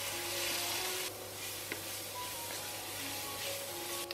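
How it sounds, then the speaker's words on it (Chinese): Shiitake mushrooms and black fungus stir-frying in hot oil with garlic in a wok, a steady close sizzle with faint clinks and scraping, the filling for soon kueh. "锅里加油，把蒜米爆香，然后加入香菇和黑木耳，"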